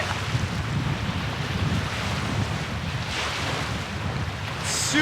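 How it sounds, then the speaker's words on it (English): Strong wind buffets the microphone in a continuous roar, with lake waves washing in the background in Algonquin Park's backcountry, and no voices. "It's been windy all day."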